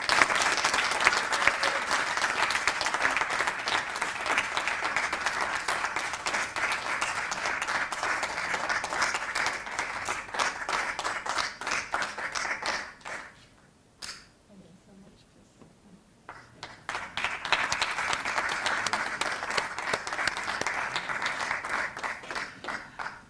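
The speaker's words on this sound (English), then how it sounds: "Can we give him a round of applause, please?" A lecture audience gives Chris, Prof Christopher Stein, sustained loud applause: a thick roar of many hands clapping that dips into near silence for a few seconds, then surges back just as full.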